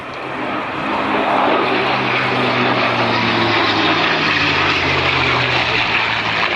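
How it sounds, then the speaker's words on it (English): Heritage Flight formation of a P-51 Mustang and an F-16 passing at the Sanicole airshow in Belgium: a loud, sustained engine roar that swells in the first second, then holds steady with droning low propeller tones. "Hier zijn ze, zoals gezegd, de P-51 en F-16."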